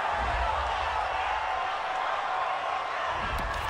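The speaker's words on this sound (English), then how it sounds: "This home crowd, they're happy with that call." Home crowd at a GFL football game cheers a penalty flag call, a steady broad roar of many voices filling the stadium throughout, with no individual words standing out.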